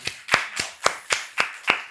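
Seven slow, uneven hand claps, close and fairly loud, a small group applauding a young girl named Viha after she finishes telling a children's story about a wicked wolf, with no talk over them.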